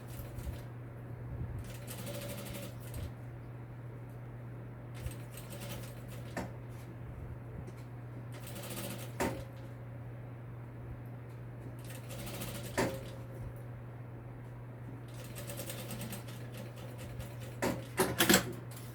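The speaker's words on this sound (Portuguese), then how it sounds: "Faço o retrocesso e venho fazendo a costurinha." Sewing machine stitching a fabric waist pouch with backstitching, short bursts of mechanical rattle separated by pauses, moderately close over a steady low hum.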